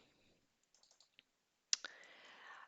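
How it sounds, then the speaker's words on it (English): Soft, close computer mouse clicks in a quiet room during QGIS mapping work: a few faint scattered taps, then a sharper double click followed by a low hum. "So we will double click on it."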